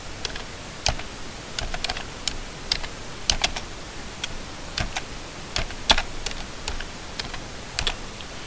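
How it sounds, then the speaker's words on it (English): Keys clatter on a computer keyboard in irregular bursts of sharp, close clicks with short pauses between words, in an otherwise quiet room. "we go in and type in our bank account name"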